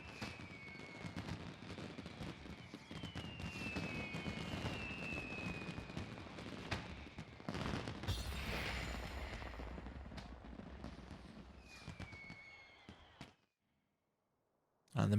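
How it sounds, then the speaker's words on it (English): Meteor fireworks in the video game Final Fantasy XIV, a run of whooshing streaks and crackling bursts that rise and fall over about thirteen seconds, moderately loud, then a brief silence. "And the meteor fireworks."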